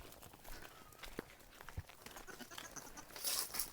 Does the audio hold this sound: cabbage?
no